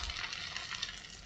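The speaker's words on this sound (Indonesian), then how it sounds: "Ini hanya mematangkan telur saja dan supaya lebih crispy." Egg snack frying crispy in hot oil, a steady close bubbling sizzle that holds at an even level throughout with no voices.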